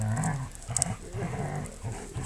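Trained dogs grapple in a bloodless dog fight contest, with panting, huffing breaths and low growls in close, lively bursts over a busy background.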